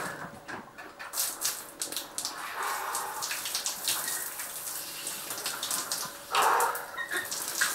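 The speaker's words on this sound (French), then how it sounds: "C'est la douche." Shower water splashes and patters unevenly nearby, with a brief louder gush near the end.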